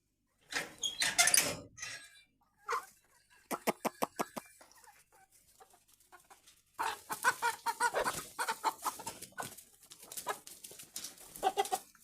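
Farm hens cluck and squawk near a ladder built for them to roost on, in loud, close bursts separated by brief quiet gaps.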